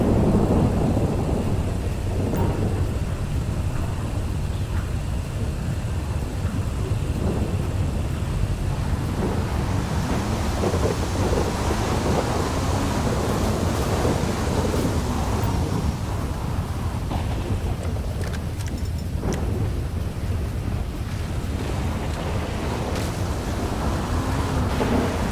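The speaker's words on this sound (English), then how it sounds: "Oh, it's raining." Steady rain hisses throughout in Grand Theft Auto V Online, with low rumbles of thunder rolling underneath; no voices.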